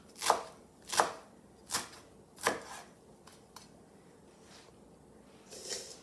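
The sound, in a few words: chopping with a knife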